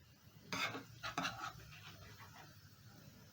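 Fish being scooped from a pot of stew seasoned with garlic and cumin seeds, giving a few close clinks and scrapes of a utensil against the pot, with softer stirring and rubbing sounds after.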